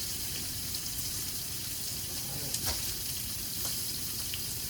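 A steak with crushed garlic sizzles in a pan, giving a steady, moderately quiet frying hiss with a few faint clicks and no one speaking.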